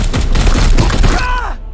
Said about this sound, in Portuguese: Vou dar 2 tiros nesse merda.